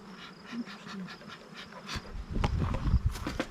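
Honeybees buzz around an open hive during a summer hive check, a soft insect drone at first, joined midway by louder rustling and handling bursts close by.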